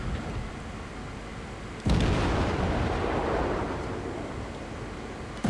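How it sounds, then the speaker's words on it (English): Naval gunfire in a warship video game as HE shells are fired at an enemy destroyer, a sudden heavy boom that rolls into a long rumbling roar, with another blast starting at the end, no speech. "Get some HE shells into him, does quite a bit of damage"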